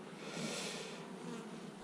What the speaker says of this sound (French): je suis en train de regarder les abeilles en fait